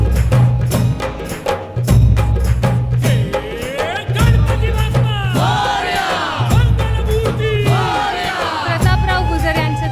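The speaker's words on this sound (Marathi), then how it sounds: "यांच्यासाठी एकदा खूप जोरदार टाळ्या होऊन जाऊ द्या" A large audience at a public lecture event roars and cheers loudly, with voices whooping and shouting together over a pounding, rhythmic backdrop that keeps going throughout.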